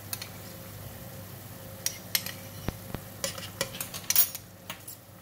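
Soup cooks on the stove as soy sauce, pepper, salt and oyster sauce go in, a low simmer under a few sharp clinks of a spoon and utensils against the pot.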